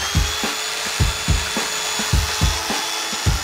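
A small foam saw cuts wood in a workshop while a headboard is being built, giving steady back-and-forth rasping strokes about every half second, close and fairly loud, with no talk over it.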